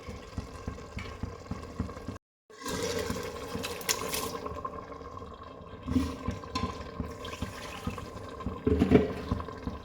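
Water pours into a cooking pot holding rice for a quick vegetable pulao, a steady, close splashing rush that runs for most of the stretch, breaks off briefly, then resumes with a few louder sloshes near the end.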